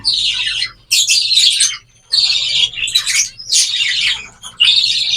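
An egg-bound pet bird gives repeated shrill squawks and chirps in close, loud bursts with short gaps, over a faint low background hum.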